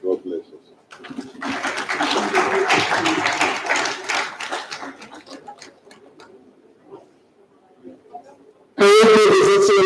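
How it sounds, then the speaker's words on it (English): Applause at the opening of the Abuja International Housing Show: a swell of clapping from a gathered crowd that rises, then thins and fades, with a speaker's amplified voice returning at the end. "I will give His Excellency another round of applause"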